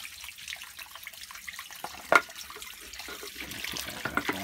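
Water runs off from the solar line of a Hayward swimming pool pump, a fairly quiet trickling and splashing flow with a brief louder splash midway.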